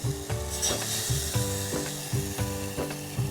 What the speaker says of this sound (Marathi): असा आवाज यायला हवा म्हणजे ती छान फोडणी बसली दणदणीत होते